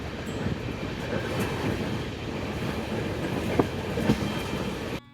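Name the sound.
Netaji Express passenger train running at night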